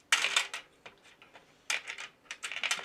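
Dice thrown into a magnetic token box, two bursts of quick clattering rattles as they tumble and settle, close and moderately loud with no voices.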